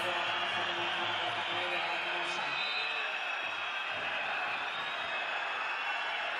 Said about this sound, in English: Crowd chanting fuera to the referees, not happy.